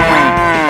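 Cattle moo in a long, loud, sustained call close by, with no talk over it; the animals are cows being sold as a pair and prepared for a traditional Indonesian ceremony.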